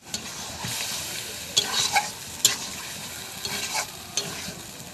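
Spice-marinated meat dropped into a very hot pan, a continuous sizzling fry with scraping stirring strokes and occasional sharp clatters of the spoon against the pan, close and moderately loud.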